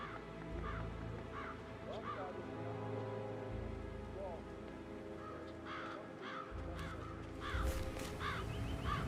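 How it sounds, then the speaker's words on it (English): Several crows caw repeatedly in the video game Hitman III, harsh calls scattered irregularly over a low droning background with rain-like patter, moderately close. "It's the birds. They're making a racket, droppings everywhere."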